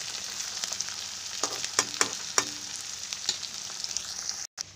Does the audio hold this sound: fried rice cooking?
yes